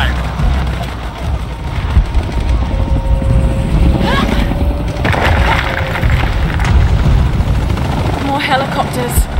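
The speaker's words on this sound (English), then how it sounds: "More helicopters." Helicopters in the video game Shadow of the Tomb Raider, a loud continuous rotor roar with rumbling booms and gunfire-like hits throughout, with radio-style game voices talking over it.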